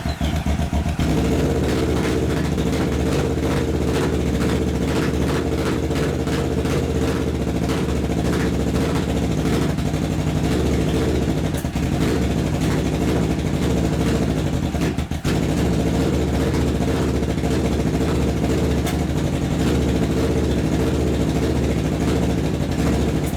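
A Kawasaki Ninja 650 motorcycle engine runs loud and close, with a steady rapid idle throb and occasional rises and dips in its revs.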